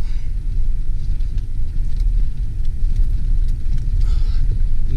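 An off-road vehicle driving on the Mojave Road, heard from inside the cab as a steady, loud low rumble of engine and tires with faint rattles on top and no talking.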